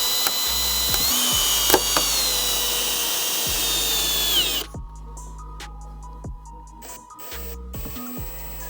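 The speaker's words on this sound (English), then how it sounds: "I'm going to put a screw in." Power drill driving a screw into a carbon fiber front lip on a BMW F30 bumper, a loud continuous whirring run for about four and a half seconds, then quieter ratcheting clicks and brief bursts close by.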